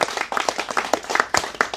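An audience at a Javanese-language Islamic lecture claps in a dense, uneven burst of sharp hand claps, fairly close and steady, with no talking over it.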